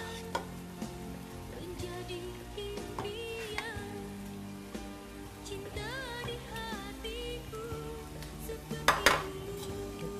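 Sauce poured back into a pot of basmati jollof rice on the stove, with metal pot and utensil clinks, scraping and soft stirring over a quiet sizzle and a steady background tone.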